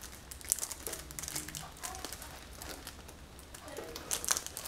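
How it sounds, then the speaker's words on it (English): Crinkly plastic wrap is fiddled with and peeled from a package of Sri Lankan tea, a steady close rustle and crackle running throughout with a few sharper crinkles, no voices over it. "Where is the plastic for peeling off?"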